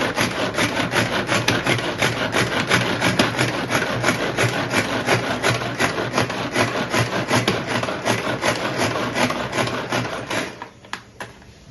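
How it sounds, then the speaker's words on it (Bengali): A knife chops cabbage finely on a board for momo filling, in rapid, steady, close-up strokes of several taps per second. The chopping runs continuously and then trails off into a few scattered knocks near the end. "এবার বাঁধাকপিটা চপ করে নেবো"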